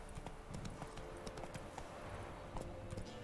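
Hooves of the horse Roach pound in a quick galloping rhythm across open ground in a fantasy game world, close and steady under a faint ambient bed.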